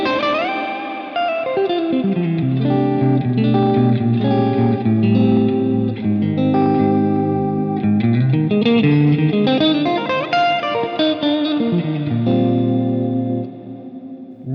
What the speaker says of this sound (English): if we bring the modulation in here, we've still got the mix low on the reverb itself.